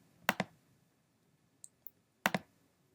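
Computer mouse clicks from a session configuring Cisco ACI with Microsoft Cloud virtual machines: two quick double clicks, close and crisp, separated by near silence with a couple of faint ticks between.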